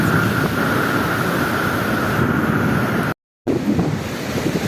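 Ocean waves and strong wind batter the rocky granite shore of a small island as the tide rises, a loud, steady roar of surf with gusts buffeting the microphone, cut off by one brief dropout.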